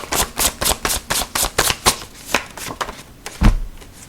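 Playing cards being shuffled by hand, a quick series of close riffling bursts in steady rhythm followed by a few slower taps and a final thump.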